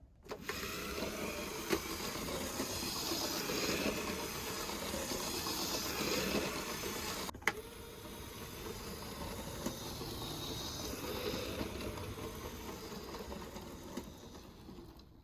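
A LEGO 9-volt train motor in good working order hums and whirs steadily as it runs around an oval track under a speed regulator, with one sharp click midway.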